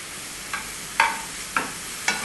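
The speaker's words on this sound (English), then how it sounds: "we will let them caramelize with the honey and the oil we have added" Ingredients caramelizing in a pan with honey and oil, a soft steady sizzle broken by four sharp stirring scrapes at regular intervals, close and fairly quiet.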